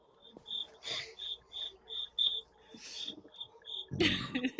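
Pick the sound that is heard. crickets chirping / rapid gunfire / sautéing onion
crickets chirping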